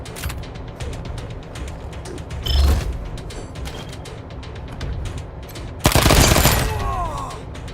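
Gunshots during a turn-based squad fight in the video game Wasteland 3, a steady crackle of rapid shots and clicks with two louder, heavier blasts standing out, up close.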